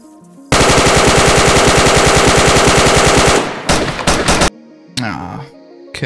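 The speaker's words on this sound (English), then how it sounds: "Literally shooting me like they know where I am." Loud, rapid automatic gunfire in the DayZ video game: a long sustained burst of evenly spaced shots, then several shorter bursts and single cracks separated by brief silences.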